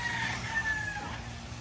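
Roundhead gamefowl chickens in a yard, a rooster's crow drawn out over a steady background of farm ambience, moderately close with no speech.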